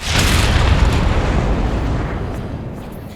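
Set charges detonate while sabotaging the Qunari in a video game, a loud booming explosion that hits at once and then slowly fades into a long, decaying rumble.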